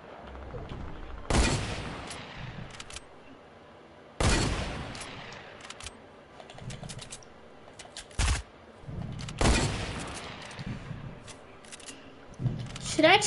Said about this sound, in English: Dude, are you shooting someone with an SMG?